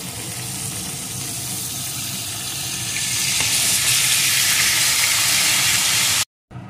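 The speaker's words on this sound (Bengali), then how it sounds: "এখন আমি এইভাবে একটু ভেজে নেব" Slices of pointed gourd (potol) fry in hot oil, giving a steady, close sizzle that grows louder and more intense partway through before cutting off abruptly.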